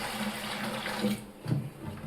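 Water is poured into a vessel of ground spices to make spicy pani puri water, a short steady stream of pouring, close and moderately quiet.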